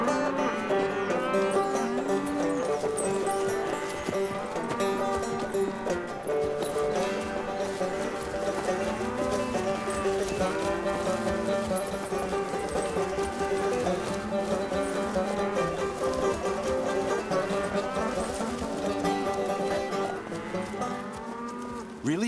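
A herd of 35 cows moos repeatedly and overlapping as they are let out of the stable after months of confinement, hooves clattering underneath in a loud, continuous, busy din with no talking.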